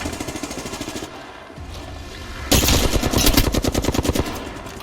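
Gunfire in the video game Apex Legends, bursts of rapid automatic shots rattling loudly up close, a short lull in the middle, then a dense sustained volley of fire.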